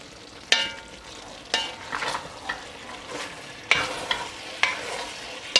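Lamb kavurma fries slowly in a pan, a soft continuous sizzle broken by sharp scrapes and clinks as a spoon turns the meat every second or so.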